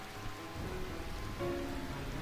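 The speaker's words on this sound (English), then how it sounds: "I find this rain quite pleasant." Steady rain hiss from the Final Fantasy IX video game, an even, continuous patter of drops on surfaces with faint low rumble underneath, no talking.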